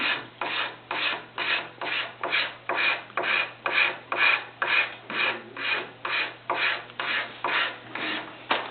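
Hand scraper drawn along a wooden leg held in a shaving horse, about sixteen evenly spaced rasping strokes in a steady rhythm, close and clear with no speech.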